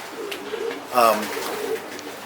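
Racing pigeons in a loft in Bulverde, Texas, give one short, soft coo near the middle, against a quiet background hiss.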